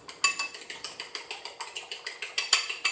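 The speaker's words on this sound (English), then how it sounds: "I'm going to scramble one egg, so I'm going to just whisk this up" An egg being whisked to scramble it in a bowl, a steady run of quick metallic clicks and taps, about six per second, close and even with no talking.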